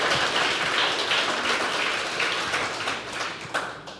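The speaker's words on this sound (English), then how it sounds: "So I think that deserves a round of applause." A room full of people applauds at a talk celebrating James Baldwin's 100th birthday, a continuous crowd clapping that slowly thins toward the end.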